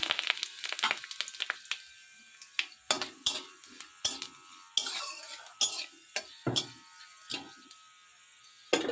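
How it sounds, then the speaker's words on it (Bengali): Panch phoron and bay leaf hitting hot oil for tempering in a Bengali tomato chutney, heard as a quiet crackle and sizzle with scattered sharp clicks and utensil scrapes in the pan. "গরম তেলে দিয়ে দেব পাঁচ ফোড়ন তেজপাতা"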